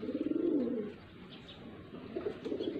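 A golden female pigeon coos close by in soft, throaty bubbling notes, one longer coo at the start and another quieter one near the end, with no talking.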